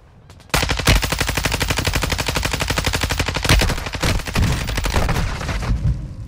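Sustained automatic gunfire from a video game, loud and continuous, a rapid rattling stream of shots that barely lets up for about six seconds, with no voices over it.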